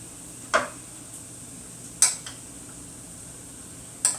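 A spoon scoops cooked rice into a pan for pork fried rice, giving three separate sharp metallic clanks spaced a second or two apart over a quiet background.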